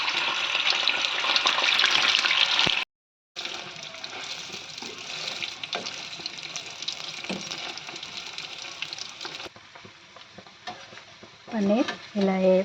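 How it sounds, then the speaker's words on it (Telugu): Paneer pieces fry in hot oil with a loud, steady, bright sizzle that drops out briefly, then carries on, softening later as the pieces are stirred and moved around the pan, with no talk. "కొన్ని పన్నీర్ ముక్కలు వేయించుకోవాలి నూనెలో"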